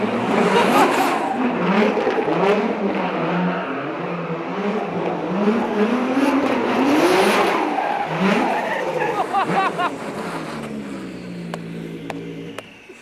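The engine of a GReddy 35 RX Spec-D drift car revs hard and roars continuously, with tires squealing and the motor rising and falling before fading near the end.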